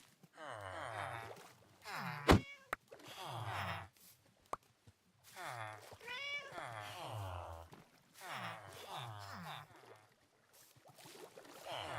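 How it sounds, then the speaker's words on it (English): A cat in the video game Minecraft meows and yowls repeatedly during a boat ride, a series of drawn-out, wavering cries with short pauses between them and a couple of sharp clicks. "Cat, this boat ride is not for you."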